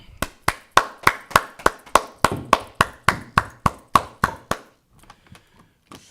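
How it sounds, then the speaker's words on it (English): Clapping at a religious gathering: a single loud, close set of hands striking in a steady, evenly spaced rhythm of about sixteen sharp claps, then stopping, with a few faint taps after. "Let's go ahead and clap it up."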